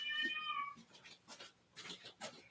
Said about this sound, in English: oh, my cat is meowing